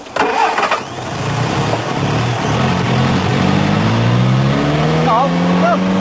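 A car engine is revved hard, loud and sustained with a climbing pitch and harmonics sweeping upward, with brief voices near the start and end.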